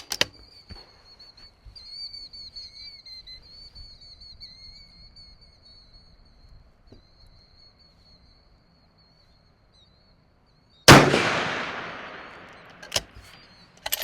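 A single loud, sharp report from a lightweight rifle aimed at a distant target, ringing out after a long quiet stretch with a faint steady whistle-like tone beforehand, then decaying, followed by a couple of small clicks.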